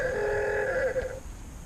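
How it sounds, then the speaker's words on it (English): A telephone rings once indoors, a steady electronic tone lasting about a second before cutting off, fairly loud with faint background hiss. "Uh-oh, somebody wants me on the phone."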